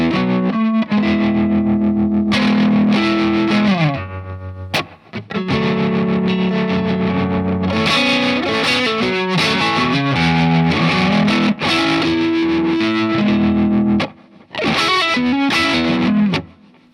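Electric guitar played through effects pedals, Stratocaster or Telecaster into a Divided by 13 amp, with phaser, chorus or tremolo. It rings out in loud, sustained chords and picked phrases with short gaps, alone and without talk.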